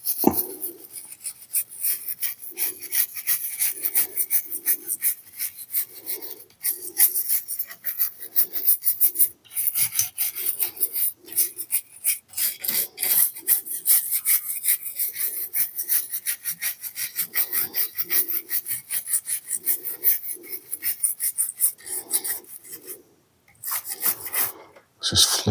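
Sanding a ZX Spectrum+ plastic case by hand gives a steady, close, rasping rub that repeats in quick back-and-forth strokes for the whole stretch, with a short pause near the end. No voices are heard.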